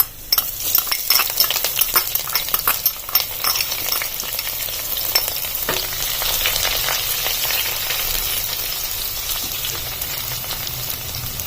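Chopped shallots and dried red chillies hit hot oil with popped mustard seeds for a mango curry, starting with a burst of crackling and spoon scrapes, then settling into a loud, even sizzle.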